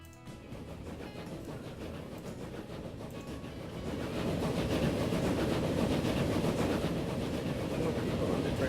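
Train rolling along rails in the video game Transport Fever, a steady rumbling run that swells louder midway and holds, with faint rhythmic clatter and no voices.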